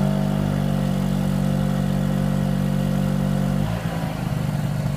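A generic Chinese two-stroke generator engine under load runs at a steady, buzzy high idle, then shifts pitch and speed near the end, loud and close with no talk.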